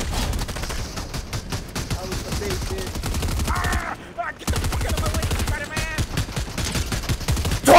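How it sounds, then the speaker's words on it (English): Gunfire in the Fortnite video game: rapid bursts of automatic shots crackle almost without a break, with a short gap midway, while voices talk over the shooting. "We got shots fired! We got shots fired!"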